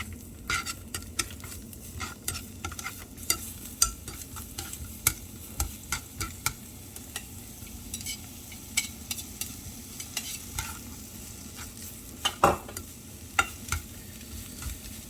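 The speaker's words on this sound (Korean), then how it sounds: "살살살살 중불에 볶아주실게요" Vegetables stir-fried over medium heat for japchae, a Korean glass-noodle dish: a steady low sizzle runs throughout, broken by frequent sharp clicks and scrapes of a utensil tossing the food against the pan, with no talking.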